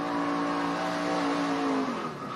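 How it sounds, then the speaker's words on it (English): A NASCAR stock car at Auto Club Speedway steps out into a big slide, its loud, steady engine note holding high and then dropping off near the end, with a faint hint of tire noise. "The car just steps out. Nice big slide. You'll see smoke come out of the right rear, and you'll probably hear the RPM pick up."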